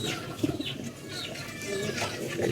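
Racing pigeons coo softly in a loft with a dozen or so old birds, a steady murmur of throaty calls with faint wing flutters throughout.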